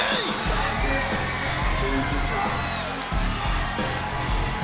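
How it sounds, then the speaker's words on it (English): A capacity crowd at the TNA Impact Zone erupts in a massive ovation for Jeff Hardy at a wrestling event, with a loud, sustained roar of cheers and whoops while commentators talk over it. "What a reaction from this capacity crowd at the Impact Zone. Massive ovation for Jeff Hardy"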